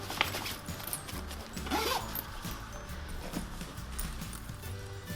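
The front zip pocket on a baby-bag backpack is worked by hand, giving a short zipper rasp mixed with fabric rustling and handling knocks, close by.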